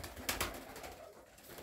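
Flying tumbler pigeons coo softly inside a pigeon loft, a faint low murmur with a couple of brief flutters or knocks near the start.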